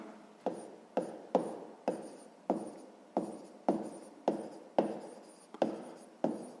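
A pen writing an answer by hand during a sixth-grade maths exercise produces about a dozen evenly spaced scratching strokes, each a crisp close onset fading quickly, in a quiet room with no talk.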